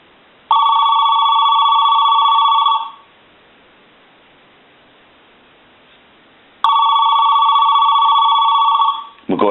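An AT&T 210 Mickey Mouse telephone under repair rings twice, each ring a loud, bright, continuous bell burst of about two seconds, separated by a silent pause of several seconds.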